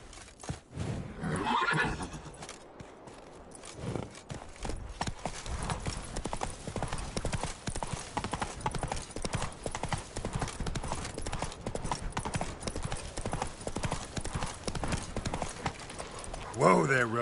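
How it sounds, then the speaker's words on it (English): A horse gallops in The Witcher 3 video game, its hooves beating a fast, steady clip-clop that runs on for most of the stretch, with a loud neigh near the start and another at the end, and voices over the game sounds. "Whoa there, Roach."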